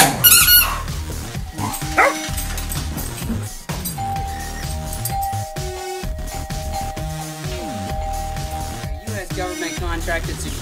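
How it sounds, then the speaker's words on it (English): A guard dog, billed in an infomercial as selectively vicious, gives several sharp barks and squeaky yelps against a busy background of clinks and tones, fairly loud and close. "we will include this selectively vicious guard dog to scare away all of those annoying intruders and salesmen"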